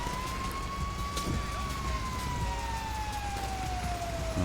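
A fire truck siren in GTA Online during a firefighting mission, one slow, smooth wail that rises and falls, loud and sustained over a steady background rumble.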